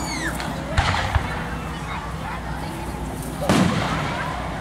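Fireworks at an Independence Day display in Springettsbury Township thud and crackle in a few distant bursts while people chatter nearby.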